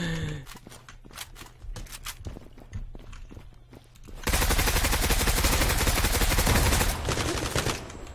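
Pistol fire in the online shooter Zula: a rapid burst of sharp shots and clicks, then a dense, loud stretch of continuous firing that eases off near the end.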